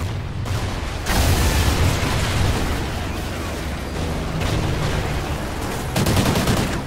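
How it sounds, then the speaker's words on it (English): Dense gunfire and explosions in the Call of Duty: Ghosts campaign, loud and continuous, with heavy bursts near the start and end over a steady roar of battle. "Firing."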